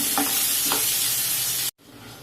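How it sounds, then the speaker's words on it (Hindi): Potatoes frying in a kadai for a spicy Bengali-style chicken curry, producing a loud, dense, steady sizzle up close that cuts out abruptly near the end and then resumes faintly. "ये आलू डाल के इसको फ्राई करेंगे जब तक ये आलू पूरी तरह से हल्का हल्का ब्राउन ना हो जाए"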